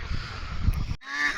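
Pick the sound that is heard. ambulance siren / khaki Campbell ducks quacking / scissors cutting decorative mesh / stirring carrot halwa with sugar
khaki Campbell ducks quacking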